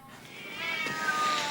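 Cats meowing in a family film, several tonal cries rising and overlapping over steady background hiss, growing slightly louder, no talk.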